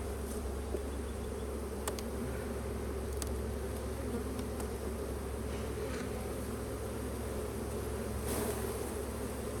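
Honey bees swarm and buzz at an open hive during a brood inspection, a dense, steady drone filling the whole stretch up close, with a few sharper passing buzzes of individual bees.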